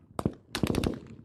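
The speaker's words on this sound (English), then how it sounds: "The sound of gunfire goes on for more than 5 minutes." Rapid bursts of rifle gunfire crack out before dawn, a quick pair followed by a fast string of shots, sharp and moderately loud.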